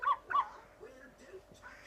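A child imitates a dog barking with their voice: two short, close, yappy 'ruff' barks in quick succession, followed by faint background noise.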